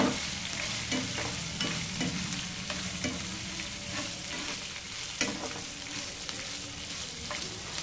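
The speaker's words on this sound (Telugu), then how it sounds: "ఇంగు కూడా 1 స్పూన్. బాగా ఏగాలి ఇవన్నీను." Asafoetida and spices fry in a pan for dabba kaya uppudu pindi, a steady close sizzle with soft stirring scrapes and small taps over the top, and no voices.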